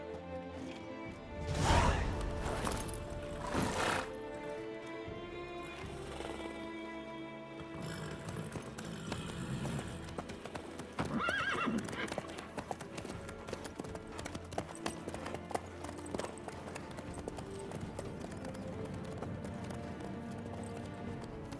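Horse galloping in the game The Witcher 3, steady clip-clop hoofbeats under music with a few louder crashing impacts early on, no talk.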